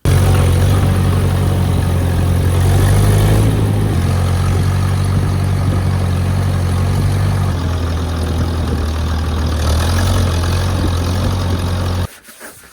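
A 1959 Massey Ferguson 202 Work Bull tractor engine, fitted with a new carburetor, idles steadily with a deep low throbbing rumble, close and loud, its note dipping slightly midway before cutting off abruptly near the end.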